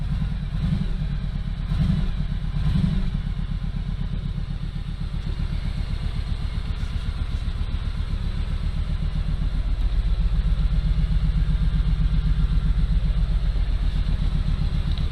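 A Kawasaki Z motorcycle engine fires up and settles into a steady, rumbling idle, a low throaty chug that runs continuously and close by with no talk over it.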